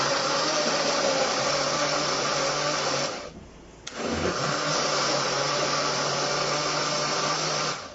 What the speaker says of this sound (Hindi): अब इसको हम ब्लेंड करते हैं अच्छी तरह से।